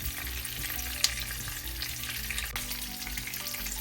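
Chicken strips frying in oil for a fried chicken strips recipe, a steady, close, crackling sizzle with a few sharper pops, continuous and without talk.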